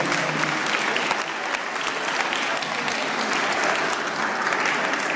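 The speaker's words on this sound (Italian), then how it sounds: "Possiamo fare un applauso" Audience applause at a school concert honouring clarinet teachers, a steady dense clapping from a large crowd sustained throughout with no breaks.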